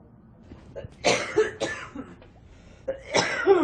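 A woman in a hospital room coughs twice, close and sharp, each time in a short harsh burst with quieter breathing between.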